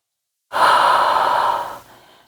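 A single deep exhale during a mat Pilates exercise, close and breathy, lasting about a second and a half before trailing off into a softer tail.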